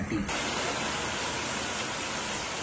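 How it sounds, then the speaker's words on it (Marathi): Heavy rain pours steadily during the Gauri festival, a dense, unbroken roar of falling water that starts abruptly and stays loud and close throughout, with no talk rising above it. "गौरी आली आणि पावसाने जोर अजून पकडलाय"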